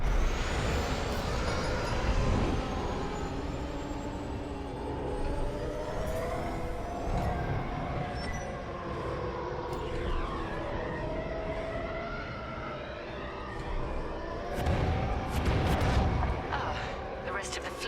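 Star Wars: Squadrons starfighter throttling up and launching out of a hangar, a dense, loud engine roar with rising tonal whine and rumbling bursts, sustained throughout under faint voice chatter.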